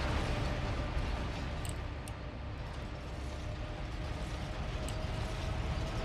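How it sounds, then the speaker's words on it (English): A shredder in the game Astroneer grinds up a small printer with a dense, continuous mechanical rumble and rattle, steady in loudness and heard alone throughout. "I bet we can shred this small printer, though"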